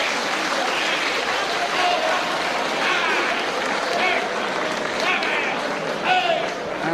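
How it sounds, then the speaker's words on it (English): Crowd applause at a World of Sport wrestling match, a steady wash of clapping and cheering that runs the whole time, with a few brief rises. "And Dennison applauds his opponent."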